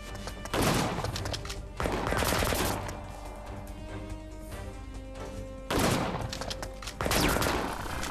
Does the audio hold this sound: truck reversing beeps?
no